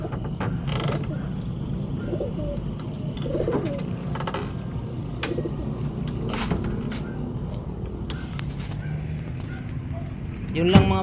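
Pigeons, including a Tippler, coo softly amid wing flutters and scratchy movement, with steady background noise throughout.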